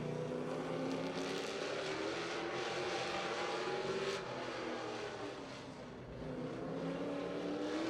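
Race car number 42 taking the green flag to start its qualifying lap, a steady loud engine drone holding through, dipping briefly and then swelling again as the car passes.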